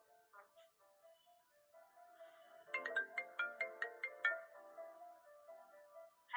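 A phone ringtone plays after a call is dialed: a bright, regular series of chiming electronic pulses that sit in the middle of the clip, set over a softer synthesized tone.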